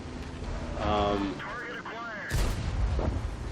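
M103 heavy tank firing its cannon in World of Tanks, with a sudden loud boom partway through after a stretch of engine and game noise, under a voice.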